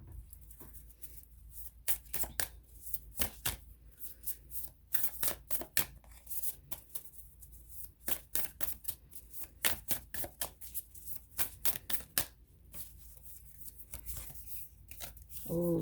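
Moonology oracle cards shuffle by hand in quick, irregular riffles and soft flicks, close and fairly quiet, continuing without pause throughout.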